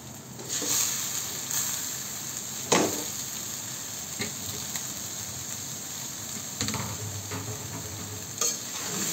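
Boiled noodles tossed and fried in a hot pan with tomato, giving a steady close sizzle with scattered scraping stir strokes and a couple of sharper utensil knocks, no voices.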